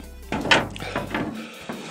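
The plastic swinging door of a vintage 1980s Power Lords Volcan Rock toy playset being moved, a few soft knocks and clacks close by with faint handling noise, no speech.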